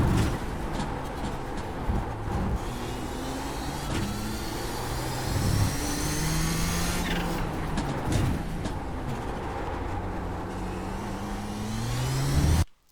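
A race car engine in the iRacing simulator at Circuit of the Americas holds a loud, steady drone at speed, its pitch rising and falling through gear changes for the whole stretch before cutting off abruptly at the end.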